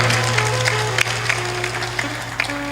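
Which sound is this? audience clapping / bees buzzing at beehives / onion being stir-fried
audience clapping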